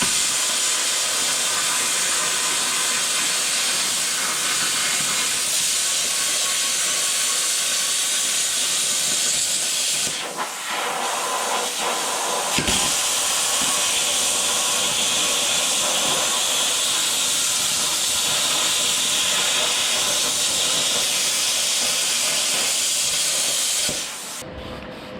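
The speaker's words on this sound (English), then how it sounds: "a rough circle that we can go ahead and cut out with the plasma cutter" A plasma cutter slices through a fuel tank crossmember on a 1999–2006 GM truck, giving a loud, steady, close hiss that briefly drops out near the middle, resumes, then cuts off at the end.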